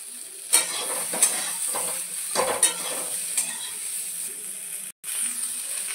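Carrot and green beans stir-fry for khichuri, a steady hiss of frying with several sharp scraping clicks of a spatula stirring the pan, close and alone without talk.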